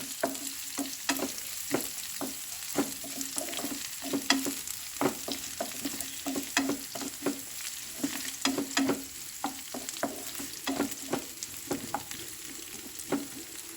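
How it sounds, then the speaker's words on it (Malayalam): Onions frying in a pan for a milk tapioca dish, a steady soft sizzle broken by frequent sharp scraping taps of stirring, close and fairly quiet with no speech. "ഉള്ളി നന്നായിട്ട് മൂത്ത് വന്നിട്ടുണ്ട് നമുക്കിത് കപ്പയിലേക്ക് മാറ്റാം"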